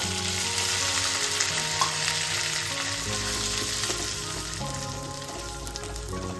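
Semolina (rava) frying and sizzling steadily in a pan for sooji idli, a continuous close hiss with faint stirring scrapes and no talking.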